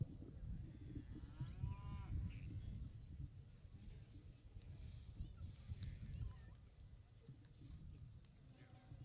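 Simmental cattle low and moo at a show ring during a beef and stud cattle judging, with several drawn-out calls rising over a busy, rumbling crowd backdrop, while a commentator speaks faintly.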